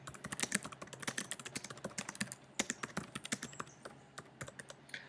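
Steady, fast typing on a computer keyboard, with crisp overlapping key clicks in an irregular rapid rhythm, close and fairly quiet, with no voices.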